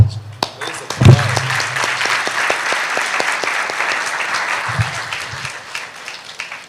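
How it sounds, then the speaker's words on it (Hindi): Audience at a Hindi-language Christian worship gathering breaks into sustained applause that fills the hall, with a voice briefly audible near the start. "मैं आपके लिए ताली बजाना चाहता हूं"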